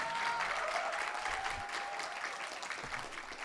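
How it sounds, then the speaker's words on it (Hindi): Audience applause at an induction programme, steady clapping from a seated crowd throughout, fairly even in level with no talk over it. "तालियां बजानी पड़ती हैं।"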